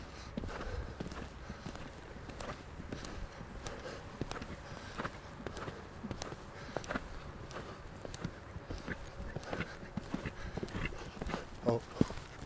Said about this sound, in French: Avec un cheval qui est encore un petit peu trop frais.